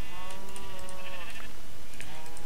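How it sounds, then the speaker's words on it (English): Sheep bleating in Minecraft, several wavering bleats in quick succession, loud and close, with light clicking sounds mixed in. "I'm going to punch some sheep real quick"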